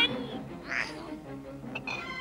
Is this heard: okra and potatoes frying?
no